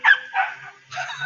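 A tiny three-month-old puppy by a fence gives three short, high yapping barks in close succession, fairly loud and near, with quiet pauses between them.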